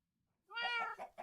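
A hungry cat meows in a video game, likely Minecraft, with one clear, drawn-out meow followed by a shorter second call, close and alone.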